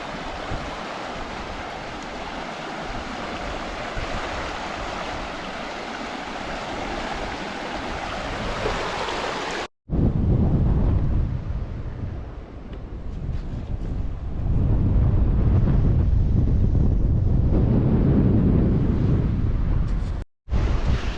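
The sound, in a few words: water pouring into Bass Strait at sunset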